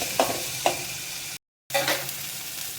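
Tomato sautéing in a pan, a faint low sizzle with a couple of quick spatula scrapes and a brief silent gap partway through.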